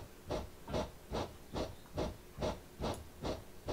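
Rhythmic chuffing hiss of a steam locomotive on the Isle of Wight Steam Railway in Train Simulator, about nine even exhaust beats at a steady pace, moderately close and heard alone.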